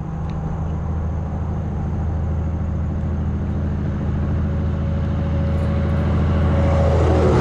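On a lonely highway a vehicle approaches with a broad, low road rumble that grows slowly louder as it nears. It is heard alone, with no voices.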